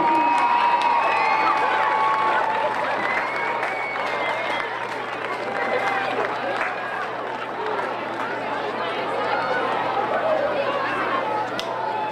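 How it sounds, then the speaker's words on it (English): A crowd in the stands at a varsity high school football game applauds and cheers for the seniors, a long spread of clapping, chatter and shouts with voices mixed throughout. "Let's give them all a round of applause"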